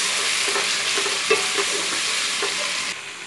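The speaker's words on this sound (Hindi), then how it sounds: "अब इस चिकन को भी पहले भून लेते हैं अच्छे से" 250 grams of chicken sautéed and stirred in a hot pan for murgh palak, steady loud sizzling with repeated scraping spoon strokes, close up and alone.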